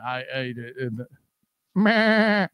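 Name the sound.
goat bleating sound effect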